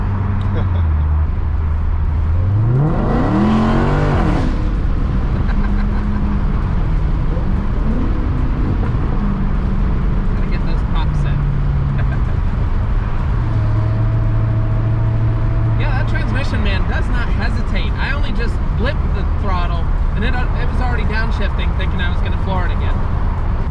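A 2016 Dodge Challenger Hellcat drives along with a steady, loud engine and road drone, rising and falling through gear changes, while someone talks over it for much of the way.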